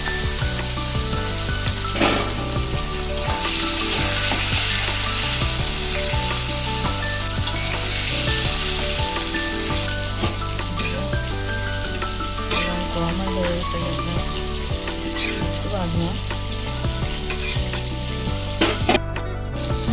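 Live fish frying in a very hot kadai, a loud continuous sizzle and crackle up close with occasional stirring clatter, no talk.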